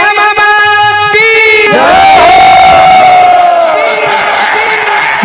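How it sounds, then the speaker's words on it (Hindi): A crowd at a devotional jas jhanki performance erupts in a loud, sustained roar of cheering and shouted chants, swelling after a short musical phrase and holding close and full. "एक बार तो हाथ इसे उठा करके जोरदार जयकारा और ताली"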